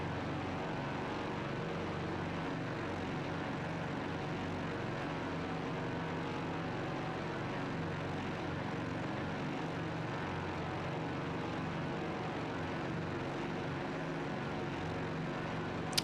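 Twin propeller engines of a Boeing 247D in Microsoft Flight Simulator 2024 drone at high RPM, a continuous steady engine hum that stays level throughout, with no talking.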